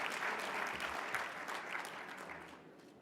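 Audience applause for a senator at an advocacy conference, steady dense clapping from a large crowd that fills the room and slowly tapers off toward the end.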